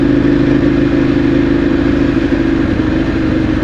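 A motorcycle's exhaust produces a loud, steady low drone with a constant engine hum held throughout, close and uninterrupted, with no voices.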